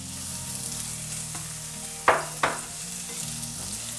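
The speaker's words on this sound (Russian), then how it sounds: "Выкладываем на сковороду лук." Steady sizzling and frying hiss of onions in a frying pan fills the clip, with two sharp clinks partway through and a low hum underneath.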